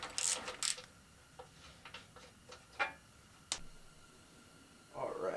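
A hand ratchet clicks in short bursts while loosening a Torx bolt under the bumper of a Jeep TJ, with a few separate ticking runs, a sharp click, and someone talking at times.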